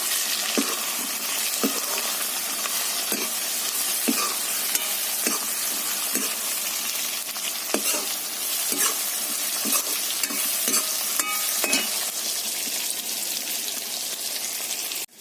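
Tomatoes dropped into a frying pan with browned onions give a steady, close sizzle that runs throughout, dotted with light clicks and scrapes of stirring, and no voices.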